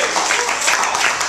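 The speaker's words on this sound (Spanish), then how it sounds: "Den un aplauso al Señor." Congregation applauding during a church sermon, a dense continuous wash of clapping that stays steady and fairly loud through the short moment.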